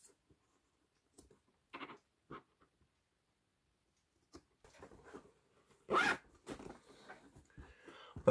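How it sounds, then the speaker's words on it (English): A zipper on a handmade leather Dopp bag with a handle, heard in a few short separate scratchy pulls with quiet gaps, ending in a longer, louder zip close to the listener. "We have a bag with a handle and it zips."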